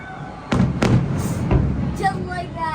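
Festival fireworks in Waikiki, Honolulu, launching with deep thumps and bursting overhead, several loud booms in quick succession with crackle, while a crowd talks and exclaims throughout.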